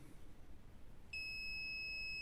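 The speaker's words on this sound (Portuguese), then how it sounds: "eu estou na escala do bip, né?" A multimeter set to continuity mode beeps while testing a shorted capacitor on a circuit board: after about a second of faint hiss, a steady, clear electronic tone starts and holds unbroken to the end.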